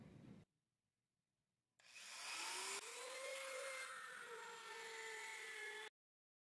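A fine needle-file bit cutting into a PVC tube, a steady rasping, whining grind with tonal squeal that starts abruptly after a short quiet gap and runs continuously at close range for about four seconds before stopping.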